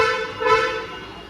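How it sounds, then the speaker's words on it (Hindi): Horn of a Hyundai Creta S 2025 car, heard as a single steady tonal honk of about a second, close and fairly loud, fading at the end. "अगर मैं आपको हॉर्न सुनवाऊं"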